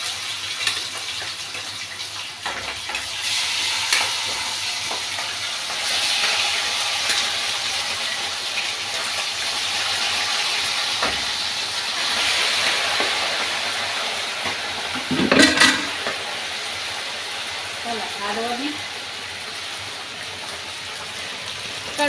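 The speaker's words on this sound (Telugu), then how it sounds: "ఫస్ట్గా అయితే ఇప్పుడైతే చికెన్ ముక్కలు అయితే వేస్తున్నాము." Chicken pieces sizzle in plenty of hot oil in a pan while a chicken pickle is cooked, giving a continuous broad hissing crackle with a few brief louder spatters, steady and close with no talk.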